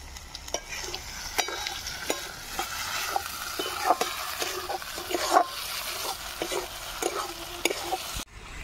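Mutton fries in a pan as chopped tomatoes and green chili are stirred in, making a continuous sizzle broken by regular spatula scrapes and knocks that stop abruptly near the end. No voices.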